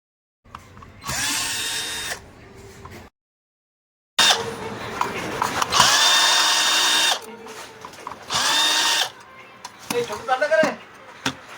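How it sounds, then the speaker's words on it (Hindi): A power screwdriver backs screws out of the Bluetooth PCB inside a Sony HT-RF700 home theater unit, whirring in several separate bursts of a second or two, with short pauses and some talk in between. "ये डिस्कनेक्ट, इसका स्क्रू खोल लेंगे।"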